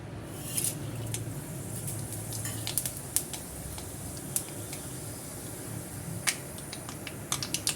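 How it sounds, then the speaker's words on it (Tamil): Mustard seeds, urad dal, cumin and fenugreek spluttering in hot oil, a faint steady sizzle broken by scattered sharp pops and crackles, close and alone. "கடுகு பருப்பு நல்லா பொரிஞ்சிடுச்சு"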